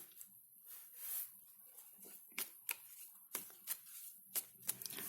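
Tarot cards being shuffled up close: soft riffling followed by a series of sharp, quick flicks and taps at irregular intervals.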